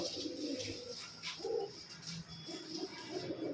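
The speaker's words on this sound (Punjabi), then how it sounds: "ਇਹ ਆਪਣੇ ਵੀਰੇ ਹੁਣ ਉੱਡੀ ਜਾਂਦੇ ਜਿਹੜੇ ਕਬੂਤਰ" Soft, low cooing of pigeons repeats in short phrases over a steady outdoor hum, with faint higher chirps now and then.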